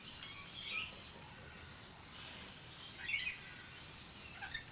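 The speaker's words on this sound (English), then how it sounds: "There's a crested pigeon." A crested pigeon calls in short, faint chirping bursts, three spaced calls against quiet outdoor background hiss.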